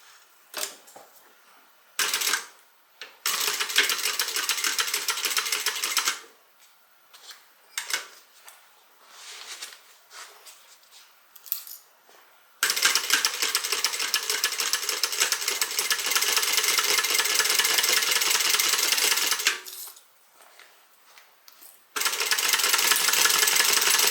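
Sewing machine stitching a seam on a tote bag, running in long continuous buzzing bursts with pauses between, loud and close.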